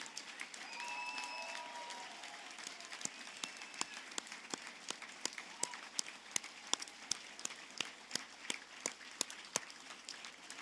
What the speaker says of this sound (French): applaudissons ensemble chaleureusement ces personnes diplômées 2024 de l'UQO Saint-Jérôme